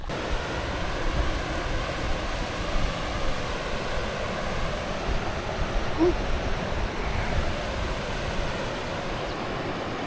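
Steady broadband rushing water from river rapids at a national park in Western Australia, a continuous close roar of churning flow with no pauses and no voices.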